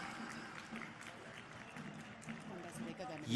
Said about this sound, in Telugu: గట్టిగా చప్పట్లతోటి మన అభినందనలు తెలియజేసుకుందాం